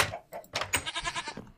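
Sheep and goat in a Minecraft game pen give a few short, close bleats one after another, mixed with small blocky game sound effects.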